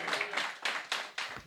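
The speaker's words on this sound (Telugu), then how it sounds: "గట్టిగా చప్పట్లు కొడదామా?" A church congregation claps loudly together in several bursts of hand claps, each swelling and fading, close and filling the room with no talk over it.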